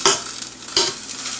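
Schnitzel frying in coconut oil in a pan, with two crackling sizzle bursts followed by a steady, quieter hiss.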